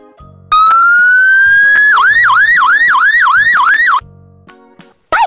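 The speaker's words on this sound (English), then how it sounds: "Fire truck." A loud fire truck siren begins with a long rising wail, then switches to a fast repeating yelp cycling about every quarter second, cutting off abruptly with a brief burst afterward.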